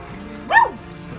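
A single short dog bark rings out over a steady low background hum.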